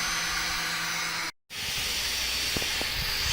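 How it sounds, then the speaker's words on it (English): Small 5-volt cooling fans running inside a 3D printer give a steady airy hiss that cuts out briefly, then resumes with a few faint rattling clicks. "So you can kind of hear the fans rattling around in there."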